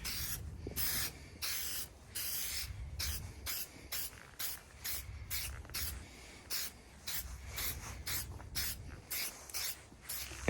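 Meguiar's headlight restoration coating is sprayed in a series of short, rhythmic hissing bursts with brief pauses between them, close and fairly quiet.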